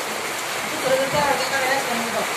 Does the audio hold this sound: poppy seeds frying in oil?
no